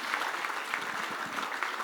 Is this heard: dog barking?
no